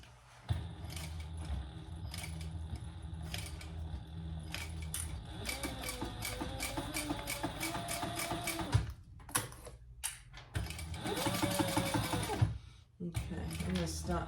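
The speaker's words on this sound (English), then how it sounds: "since I'm not putting a rivet up here, it's one more row of stitching up here." A sewing machine stitches an extra row on a waxed canvas mini traveler sling pouch, running in steady close bursts with short pauses between passes.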